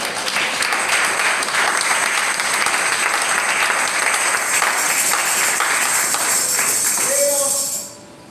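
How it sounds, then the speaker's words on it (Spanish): A church congregation claps loudly and steadily in praise during a Spanish-language service, a dense, sustained round of applause lasting about seven seconds before cutting off abruptly, with a brief voice at the end. "Denle un aplauso al Señor."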